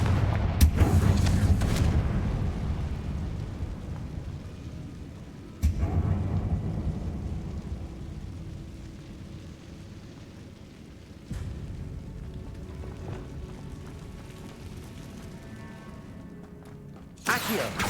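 Confringo fire spell explosions in the video game Hogwarts Legacy: a heavy booming blast at the start with a long rumbling tail, followed by two more deep booms around six and eleven seconds and a final burst at the end.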